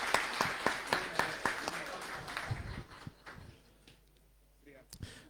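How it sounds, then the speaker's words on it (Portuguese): Scattered claps from a modest audience at a diploma ceremony honouring deputies, a few sharp distinct hand claps over the first seconds, thinning out and fading into quiet with low voices in the room. "Mais palmas, mais palmas."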